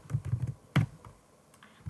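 Short bursts of typing code on a computer keyboard, a quick cluster of soft clicks followed by a sharper keystroke and a few scattered taps, close and fairly quiet.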